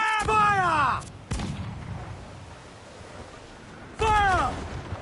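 Ship cannons fire during a naval battle in Assassin's Creed Black Flag, with two heavy booming volleys, each followed by a rumbling tail and a swooping whistle, and game voices shouting between them.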